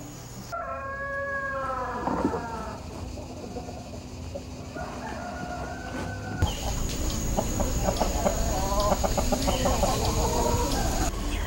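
Chickens cluck and a rooster crows repeatedly at a farm where eggs are incubated and chicks raised, a busy poultry chorus filling the whole stretch with steady farmyard background and no talk.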